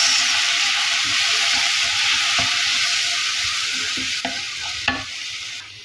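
Tomato sauce with garam masala and tandoori masala sizzles loudly and steadily in a frying pan for fish biryani, a close continuous hiss with soft stirring scrapes and a couple of sharp utensil clinks near the end.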